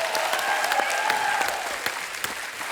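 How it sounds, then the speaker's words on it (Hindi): A studio audience at a comedy talk show breaks into enthusiastic applause for celebrity guests, a dense, bright wash of clapping that carries steadily throughout and fades slightly at the end. "जोरदार तालियां हो जाएं।"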